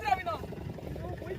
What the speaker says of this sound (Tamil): இன்ஜின் மேல தூக்கு சார்.